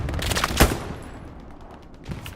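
Gunfire in the Antistasi military shooter game: a loud, close crack of a shot over a dense rumble of battle, with noisy ambience and fading echoes afterward.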